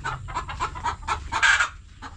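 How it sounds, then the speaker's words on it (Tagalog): Hens cluck in a steady run of short, close calls, building to a louder burst before trailing off into a final cluck. "Anong pinuputak-putak mo dyan?"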